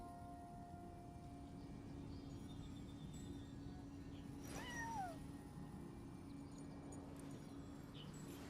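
A cat meows in the video game Genshin Impact, a single rising-and-falling call midway through over a quiet steady background hum, with faint bird-like chirps scattered around it.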